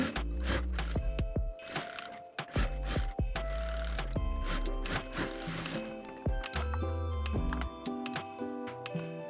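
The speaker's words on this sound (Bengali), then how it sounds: "প্রথমে আমি টুকরো কাপড়ে গলাটি সেলাই করে নিচ্ছি" A sewing machine stitches the neckline of a kameez on a piece of cloth. It makes a run of close, rhythmic mechanical clatter and ticking with short pauses between bursts.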